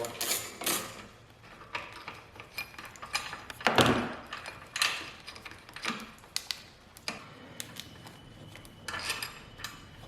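A wrench works a 10 mm battery tie-down bolt on a 10th-gen Honda Civic, making irregular metallic clicks, ratcheting and clanks, some sharp and close, with quieter gaps between.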